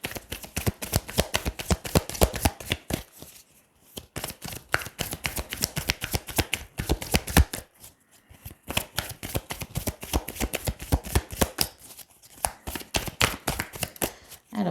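Oracle cards from a mirror-themed deck are shuffled for a card reading: a dense, steady run of crisp riffling flutters close to the microphone, with a few brief pauses between bursts and no talking.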